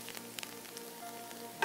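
Spinach stirred and gently sizzling in a hot pan, a soft steady frying hiss with faint scraping stir sounds, close and low in level, ending in a brief louder clink.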